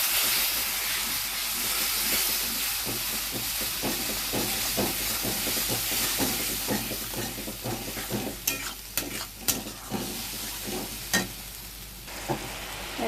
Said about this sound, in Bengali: এখন আগে থেকে বানিয়ে রাখাবো পেস্টটা আমি ঢেলে দেব